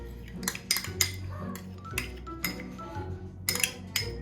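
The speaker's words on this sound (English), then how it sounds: "The next ingredient I'm going to add is 3 tablespoons of canned pumpkin" A spoon clinks and scrapes against a mug and a can several times in irregular bursts as canned pumpkin is measured in for a pumpkin mug cake, close and fairly quiet with no talking.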